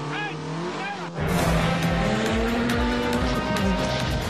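Twin-engine VW Golf II Pikes Peak race car driving hard, a loud, continuous engine roar with rising and falling revs and tire noise, kicking in sharply after a quieter opening second.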